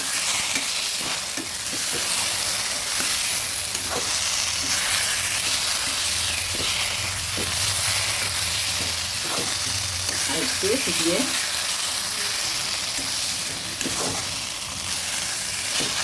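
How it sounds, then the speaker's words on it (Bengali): Ilish fish head cooking with taro in a pan, a loud continuous sizzle and frying hiss with intermittent stirring scrapes, close up, with faint background sounds. "নেড়ে দিচ্ছি।"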